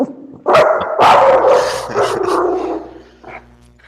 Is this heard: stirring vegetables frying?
no